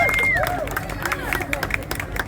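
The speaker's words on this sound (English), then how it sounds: "Just a big 3 claps for these guys." A Kansas City audience at a Monarchs event claps briefly after a speaker's prompt, scattered close claps with crowd murmur and a voice over the top.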